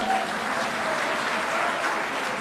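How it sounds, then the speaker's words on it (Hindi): A crowd at a political jayanti gathering with the chief minister claps steadily, a continuous wash of hands heard for the whole moment. "लीजिए, ताली बजाइए।"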